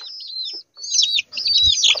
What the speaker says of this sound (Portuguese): Galinha, os pintinhos aí,